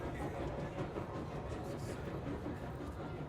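A train ride in the video game Control rumbles along with a low, continuous roar and faint rhythmic rattling, loud and even throughout with no clear voices.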